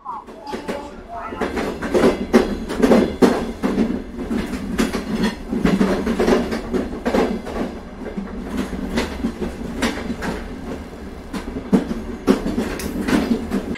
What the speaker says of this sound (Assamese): ফাইনেলি ট্ৰেইন আহি পাইছে